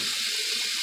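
Tap water runs steadily in a brief, close hiss as potatoes are rinsed in a strainer, with no speech.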